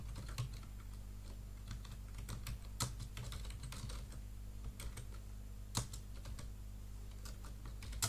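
Typing on a computer keyboard while entering text in Microsoft Publisher, with irregular close key clicks scattered over a constant low hum, a few sharper strikes standing out, and no talking.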